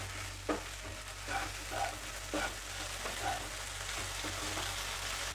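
Okra with chili powder and salt being stir-fried in a pan, a steady low sizzle with a few scraping stirs of a spatula, close and fairly quiet, no voices.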